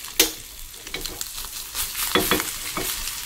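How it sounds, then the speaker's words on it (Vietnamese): An egg fries in a pan for a Vietnamese home-cooked meal, giving a soft, steady sizzle with a few brief scraping stirs, close and fairly quiet. "mình chiên một xíu cho nó chín rồi mình tắt lửa là vừa"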